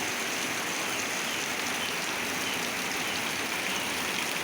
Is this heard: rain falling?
yes